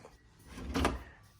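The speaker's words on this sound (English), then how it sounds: "all the cabinets are soft close" A soft-close kitchen cabinet drawer in a new high-end home slides shut, a single muffled thud-swell that rises and eases off near the middle, fairly quiet and alone.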